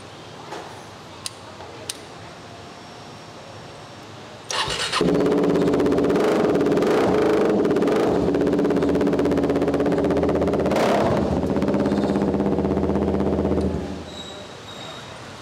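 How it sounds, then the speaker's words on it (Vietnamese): A 2015 Kawasaki Ninja 400 motorcycle engine cranks and catches after a few quiet clicks, then settles into a loud, steady idle held close by for about nine seconds before dropping away. "để mình vào mình nổ máy cái"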